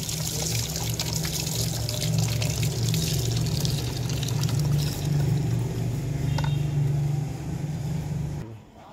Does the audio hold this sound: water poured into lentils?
yes